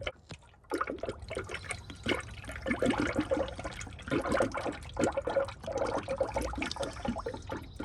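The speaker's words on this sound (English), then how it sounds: "As I'm pouring this coolant in" Coolant glugs and splashes steadily as it is poured from a bottle into the radiator of a Ford F150, a close, continuous liquid rush that begins after a brief quiet moment.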